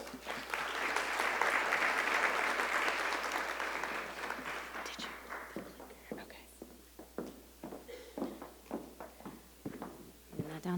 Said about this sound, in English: Please join me in joining Jennifer with a round warm of applause.